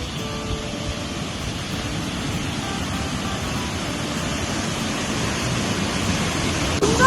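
The Jungpana waterfall pours in a steady broadband rush of water, a continuous loud roar with no pauses and no voices.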